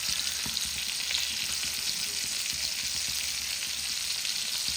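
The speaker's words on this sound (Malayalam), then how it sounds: "ചെറിയ ഫ്ലെയിമിൽ ഇട്ടിട്ടാട്ടോ മീനിപ്പോൾ നമ്മൾ വറുത്തെടുക്കുന്നത്." Fish fries in a pan over a low flame, giving a steady, close sizzle with soft crackles and no voices.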